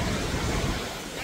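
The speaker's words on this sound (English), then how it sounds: "This is the river." River water at Yosemite National Park rushing steadily in a dense, broadband roar, close and loud throughout, with wind buffeting the microphone.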